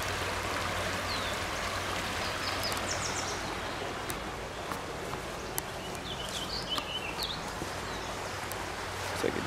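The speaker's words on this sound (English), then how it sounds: "Yeah, little tiny waterfall." Steady rushing water of a small waterfall at a little dam fills the scene, close and continuous, with faint birdsong and occasional rustles above it.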